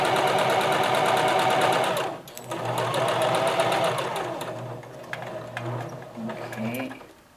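A home sewing machine stitches a lined patch pocket, its fast mechanical rattle running steadily and close, then stopping briefly for a pivot and resuming in shorter bursts as it slows near the end.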